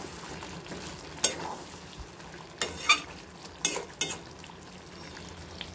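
Chicken do pyaza being stirred in a pan, a quiet steady sizzle broken by several distinct scrapes and clinks of the spoon against the pan, close up and with no talking.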